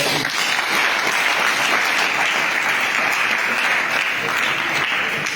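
A large audience at a Liberian gathering claps steadily and loudly, a thick continuous wash of applause with no pauses across the whole stretch.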